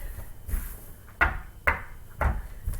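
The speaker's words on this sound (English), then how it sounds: "I gotta knock on some wood." A few hollow knocks on wood land at uneven intervals, close and moderately loud, with no talking over them.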